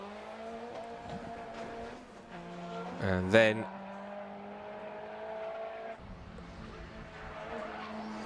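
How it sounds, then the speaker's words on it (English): Two race cars run together during a time-attack session at Knockhill circuit, one a Nissan GT-R. Engines whine at a distance and a sharp tire squeal bursts out midway, under steady commentary. "the fastest two cars in the session at the moment, now on track together"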